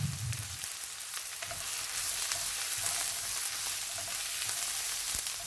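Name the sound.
onions and green chilies frying in a pan for chili paneer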